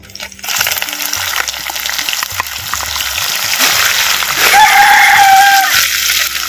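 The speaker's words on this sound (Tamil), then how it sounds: "சேர்த்த வெங்காய விழுதுகளை நல்லா அப்படியே எண்ணெயில் நல்லா வதக்கு வதக்குன்னு நல்லா வதக்குறோம்" Ground small-onion paste sizzling and frying in hot oil in a pan for a country chicken curry, a steady bright crackling hiss that swells louder toward the end, with a faint rooster crow in the background.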